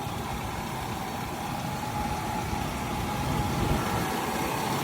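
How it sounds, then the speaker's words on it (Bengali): A Toyota Noah's engine idles quietly, a steady low hum that stays even and unobtrusive throughout, with no talk over it. "এই যে সাউন্ডটা শোনেন বুঝতেই পারবেন না যে গাড়ি স্টার্টে আছে"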